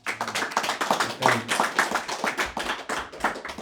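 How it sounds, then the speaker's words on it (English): A small gathering at a kirtan claps for a guest speaker, with distinct close hand claps in a quick, slightly uneven rhythm, loud and sustained for a few seconds. "let's give a big round of applause to Narada Muni"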